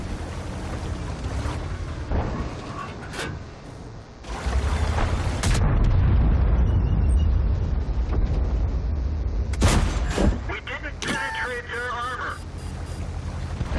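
Tank cannon fire from a Soviet KV-5 heavy tank in World of Tanks, with several sharp booming shots over a heavy, continuous rumbling battle din, mixed with other in-game effects and clatter.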